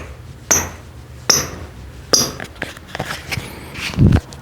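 A Specs Metasala Prototype 2 futsal shoe is tapped and knocked by hand, giving three sharp, separate clicks followed by softer scuffs and a low thud, close and alone, with no talking.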